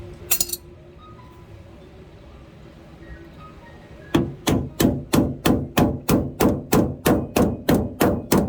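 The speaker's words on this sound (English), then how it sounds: "carpenter's hammer" A brief clatter, then a steady series of sharp, evenly spaced carpenter's hammer strikes while creating tire clearance on a 4x4 Astro van, loud and close, about a dozen blows in a row.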